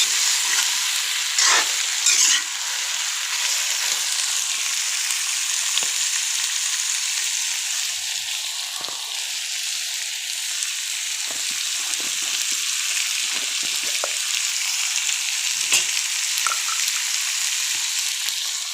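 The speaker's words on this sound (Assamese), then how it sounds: "ভাজি থাকোঁতে দি দিছোঁ গোটেইখিনি মছলা" Whole spices and ground cumin fry in hot oil in a pan, a steady close sizzle running the full length with occasional soft clicks of stirring and no talk.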